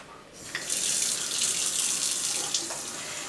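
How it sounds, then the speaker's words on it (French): Tap water runs steadily into a ceramic water butter dish, a continuous bright rush of filling water close by, with a slight shift in tone as the level rises and no talking. "Là je vais mettre de l'eau à l'intérieur."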